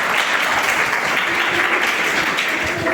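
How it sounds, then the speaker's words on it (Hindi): A church congregation claps together in a dense, loud burst of applause that fills the room evenly for a few seconds. "इसके लिए ताली बजाएंगे।"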